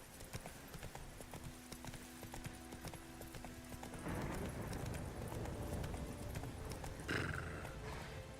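Hoofbeats of the horse Roach in The Witcher 3, a quick steady clip-clop close up, with a whinny partway through and louder movement toward the end.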